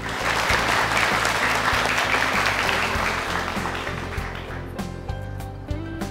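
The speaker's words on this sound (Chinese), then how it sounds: "下面让我们掌声有请模特再次登台" Loud sustained applause from an audience welcoming models back onto a fashion show stage, dense clapping that gradually thins as music swells in near the end.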